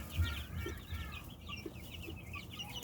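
Backyard chickens in a coop cluck and murmur continuously, several birds overlapping in soft, irregular calls at moderate distance, with no one speaking.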